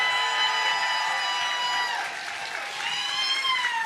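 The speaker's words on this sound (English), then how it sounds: "Let's give them a round of applause." Audience applause for a band at a live political comedy show, steady dense clapping with some whistling and cheering throughout.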